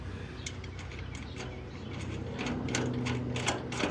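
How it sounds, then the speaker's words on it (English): Bolts on a lightbar mount being tightened on a Kubota L4701 tractor, with a steady stream of light ratcheting clicks and metallic ticks, close and moderately quiet over a constant background hum. "So we're gonna go ahead and tighten this just to kind of hold it in place."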